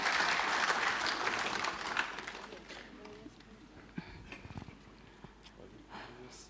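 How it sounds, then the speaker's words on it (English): Applause from a small audience at an entrepreneurial fair honouring a bakery, fairly strong at first and then thinning to scattered claps, with some talking and shuffling in the background. "we will just give a round of applause for Attila"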